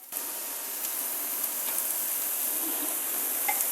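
Chicken sausages frying in a pan give a close, even, bright hiss of spitting fat that runs steadily throughout with a few small pops.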